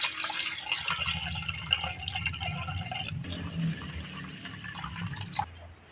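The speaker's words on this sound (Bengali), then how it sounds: "জল দিয়ে 3-4 বার করে জল দিয়ে ধুয়ে নেব" Lentils being rinsed in a bowl of water, with steady splashing, dripping and trickling close by that shift partway through as the water is swirled and poured, no voices over it.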